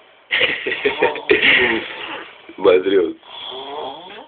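A person snores loudly in uneven bursts, close by, over roughly four seconds with no other sounds around.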